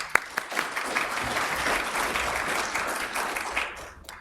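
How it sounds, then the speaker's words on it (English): Applause from a conference audience greets speaker Barry Kelly at a local government auditing session: a sustained round of clapping, fairly close and dense, that tapers off at the end. "I want to give a great big applause to Barry"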